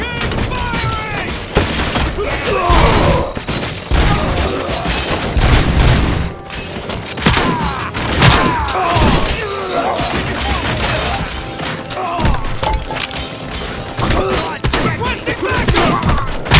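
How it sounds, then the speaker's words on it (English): Sustained heavy gunfire from a Robocop: Rogue City firefight, loud rapid bursts and impacts crackling continuously with shattering debris, while voices shout in the background throughout. "Keep firing!"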